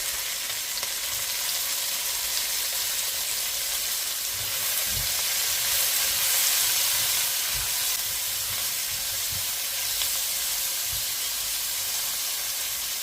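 Peppers and celery frying in a pan for chicken afritada, a dense steady sizzle with a few soft low knocks from stirring, close and loud throughout.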